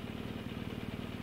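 A 1200 motorcycle engine rumbles steadily at a low, even throb, fairly faint and distant, with no voices over it.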